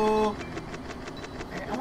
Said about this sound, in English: I think I got hit by a train or something